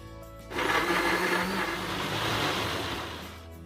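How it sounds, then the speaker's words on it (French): A blender grinds red chili, garlic and oil into a paste for Mauritian mango achar, starting abruptly after a brief quiet moment and running as a loud, steady whirring roar for several seconds. "Astir, crase piment rouge, l'ail et un cup de l'huile pour venir en la pâte."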